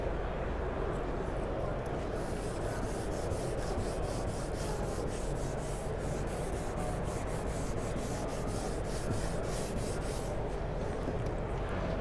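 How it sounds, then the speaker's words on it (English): Sanding screen rubbing back and forth to rough up the underside of a trim piece or stair tread before adhesive installation, a continuous gritty abrasive rasp with a fast repeating stroke, close and steady with a faint murmur of voices underneath. "what I prefer to do is rough up that bottom surface of that trim or tread or whatever we're installing"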